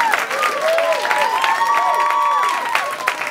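A live audience cheers and claps in a loud, sustained crowd roar, with whoops and shouted voices rising over steady applause throughout.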